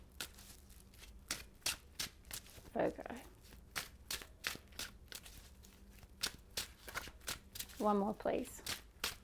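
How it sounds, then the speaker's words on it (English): Tarot cards are shuffled in a steady run of crisp, rapid riffles and snaps, close and fairly loud, while a person speaks briefly twice. "I'm going to shuffle and pull the cards"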